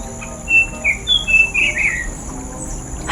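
A bird calls in a few short, high chirps and whistled notes spread across the first two seconds, fairly close and clear over a quiet background, then falls silent.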